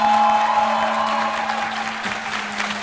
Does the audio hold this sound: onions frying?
no